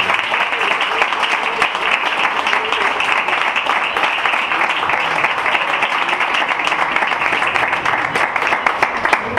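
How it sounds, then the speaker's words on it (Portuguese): A Pentecostal church congregation bursts into loud, sustained applause during an evening service, dense clapping continuing throughout with some voices mixed in. "Dê uma grande salva de palmas ao Rei"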